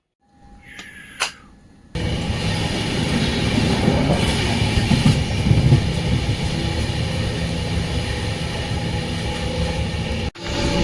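A train rolls through Hazrat Nizamuddin railway station at night after a quiet start with a brief clank, then a loud, sustained rumble of wheels and carriages with faint squeals, ending in a sharp jolt.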